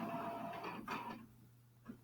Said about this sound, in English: Someone's printing on my printer.